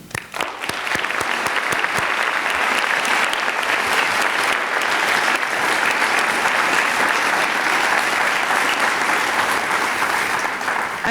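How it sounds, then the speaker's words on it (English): A final round of audience applause for students honoured at a high school extracurricular awards night, dense sustained clapping starting with a few sharp claps and then holding steady and loud to the end. "I just wanted to offer just one final round of applause to the many students that received awards this evening"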